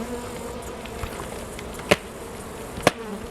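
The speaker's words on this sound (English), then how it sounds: "Alright, got all the bees out of the frames, or most of them anyway" Honey bees buzz around open hive frames during a November inspection, a steady close hum broken by two sharp knocks, with no talking.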